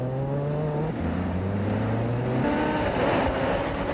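A motorcycle engine in a Brazilian motorcycle video game droning with rising pitch and a gear shift, steady and loud with a rushing background as it revs up.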